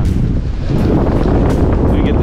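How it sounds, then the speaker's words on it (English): Strong wind buffeting the microphone on the open deck of the Disney Dream cruise ship, a steady loud roar with faint voices underneath. "I don't know how well you can hear up here because it's really windy"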